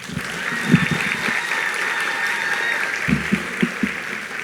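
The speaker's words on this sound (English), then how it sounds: "Another round of applause." Graduation audience at a technical high school ceremony gives a steady wash of applause that fills the whole stretch, with scattered louder claps and occasional low voices or shouts rising from the crowd.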